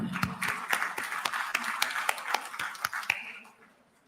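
Conference audience applauding at the close of a business session on domestic air cargo, a scattered run of claps from a hall crowd that stays steady for about three seconds and then fades out.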